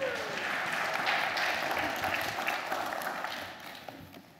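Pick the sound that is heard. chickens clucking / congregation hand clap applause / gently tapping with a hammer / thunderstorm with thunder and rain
congregation hand clap applause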